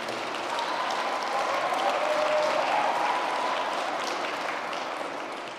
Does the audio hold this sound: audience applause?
yes